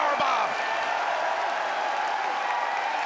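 A wrestling crowd cheers and applauds for Juice Robinson after a table powerbomb, a dense, sustained roar filling the arena beneath a commentator's voice.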